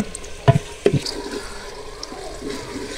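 Water splashes into a pan of frying tomato masala for a daal mash curry, two short bursts of pouring and sizzling close by followed by softer, faint bubbling, with no talk.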